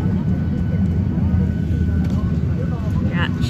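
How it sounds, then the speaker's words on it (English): Airplane cabin after landing, a steady loud low engine rumble and cabin drone filling the space with faint people talking in the background. "But now that we've landed, I wait till absolutely everybody gets off the plane, and then Pooch and I will disembark."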